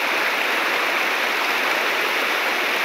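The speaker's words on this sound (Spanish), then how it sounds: "Ahí lleva bastante agua. Pero sigue lloviendo bastante" A river running high and fast during steady rain, a dense, continuous rushing roar of water that stays loud and unbroken throughout, with no voices.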